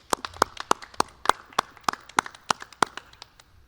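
Sparse, distinct claps ring out one by one in a roughly steady rhythm, the thin applause of a small group at a 2020 Council Rock South graduation honoring elementary, middle and high school staff.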